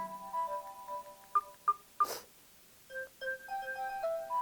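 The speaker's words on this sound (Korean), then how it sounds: "벨소리 한번 볼까요?" Default ringtone of a North Korean Arirang smartphone: a clean electronic melody of sustained synthetic tones, with short beeps first, then a stepped tune near the end, played alone and moderately loud.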